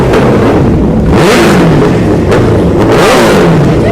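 A big bike motorcycle engine revs hard several times, each throttle blip surging and falling away close to the mic. It is very loud and harsh, with short idle gaps between revs.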